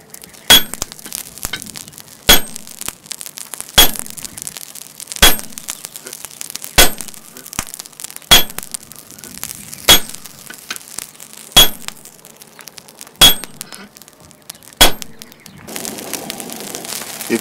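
A hammer drives a chisel through a heated steel leaf spring during hot cutting, about ten loud, close, ringing metallic strikes at a steady rhythm with quiet sizzling between blows.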